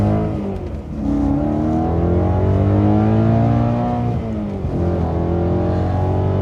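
A BMW E92 M3 accelerates hard from inside the cabin, the engine note climbing in pitch, easing off briefly, then rising again, loud and dominant throughout.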